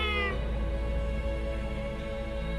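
A pet cat lets out a loud, drawn-out meow close by, a single sustained cry that slides and wavers before fading, with some background tone continuing after it.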